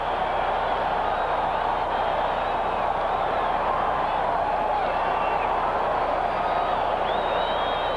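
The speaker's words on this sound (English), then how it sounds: "listen to this crowd now at Orchard Park come alive after the blocked field goal attempt" Stadium crowd at Orchard Park roaring after a blocked field goal in a 1986 Dolphins–Bills football game, a steady, loud, unbroken wash of cheering and crowd noise throughout.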